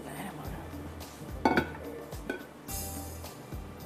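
A cooking pan lifted and set down in a kitchen, giving a few close metallic clinks and knocks with a brief clatter, while a voice speaks faintly underneath.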